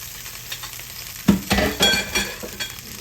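Meat browning in hot oil in batches for a Sunday dinner: a steady sizzle and frying crackle under irregular stirring scrapes and a few louder thumps, close up, with no voices.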